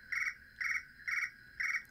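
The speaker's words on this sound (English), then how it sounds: "You're going to want to have crickets" A cricket alarm sound chirps in four evenly spaced bursts, each a bright, buzzy trill repeating about every half second, clear and fairly soft against a quiet background.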